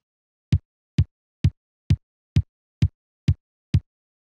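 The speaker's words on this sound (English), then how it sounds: "Let's listen to the dry kick drum sound first." Eight evenly spaced kick drum hits from a dry, tight sample, each short and punchy with a deep low thump and no lingering tail, played alone at a steady pace.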